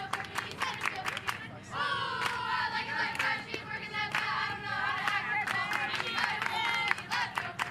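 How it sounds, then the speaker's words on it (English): Crowd cheering and clapping for the Panthers at a high school softball game between Lebanon and Little Miami, rhythmic claps and chanting voices building near and loud across the stands. "And the cheering getting going early for the Panthers here."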